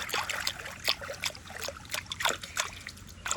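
Water trickling and splashing as hands dip into a bowl of water, a run of quick irregular splashes and drips close by, with faint voices in the background.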